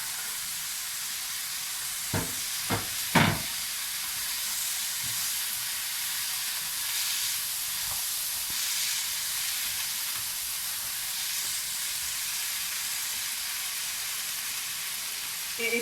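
Tomato sizzles and fries in a pan with a steady, even hiss. A few clinks and stirring knocks come near the start, and no one talks.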